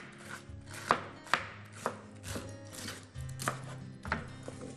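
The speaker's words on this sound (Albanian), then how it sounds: "e marrëm dhe e presim imët, duke vendosur horizontalisht pikën, që të bëhet akoma dhe më e imët" A knife chops leafy greens finely on a cutting board in a TV cooking segment, giving a run of close, sharp taps at an uneven rhythm with no talking.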